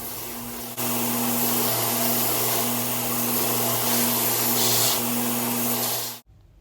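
A belt grinder sanding a knife handle: a steady, loud machine whine with a low hum starts abruptly and runs continuously, with a grinding hiss over it, then cuts off sharply at the end.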